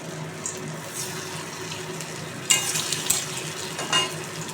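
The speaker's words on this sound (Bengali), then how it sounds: "এবার তেলে হালকা করে ভেজে নেব" Soybean chunks fry lightly in oil with a soft, continuous sizzle. A few sharper scrapes and splashes come through as the pieces are moved around, and nobody speaks.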